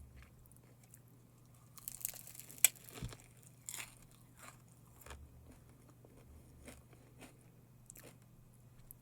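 Someone bites into a crunchy chocolate kadaif pistachio snack, giving a few faint, sharp crunches and chewing clicks close to the microphone in an otherwise quiet room.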